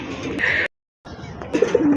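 Pigeons at a Bangladeshi pigeon market coo close by in short bursts, broken by a brief silence, with low murmuring around them.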